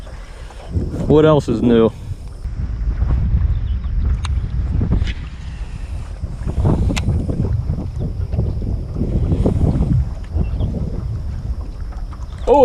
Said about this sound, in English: This wind is ferocious.